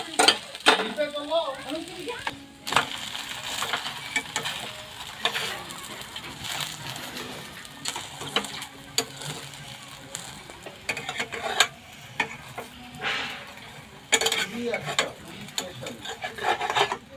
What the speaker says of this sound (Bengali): রুটি আমার ভাজা হয়ে গেছে। প্রত্যেকটা রুটি আমার ভাজা হয়ে গেল।